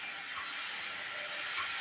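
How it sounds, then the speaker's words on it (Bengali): A building's water filter machine gives off a steady, faint high hiss, close by and unchanging for a brief moment. "এটা হচ্ছে ফিল্টার করার মেশিন,"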